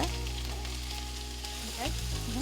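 Ginger sizzling and frying in oil in a pan for a red fish curry, a steady close hiss throughout with a brief shift near the end as ingredients are stirred.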